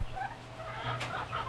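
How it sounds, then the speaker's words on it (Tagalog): Several chickens cluck and murmur close by in a brief, busy burst of soft calls. "Gutom na yung mga alaga natin,"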